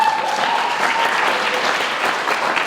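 Loud, steady applause from a ceremony audience at an Indigenous student graduation after a group photo, many hands clapping densely and evenly throughout, close and unbroken.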